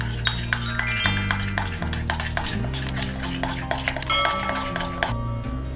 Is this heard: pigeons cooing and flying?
no